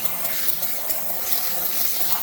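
A continuous, steady hiss of closed-cell spray foam spraying from a can, close and fairly loud, running without pause.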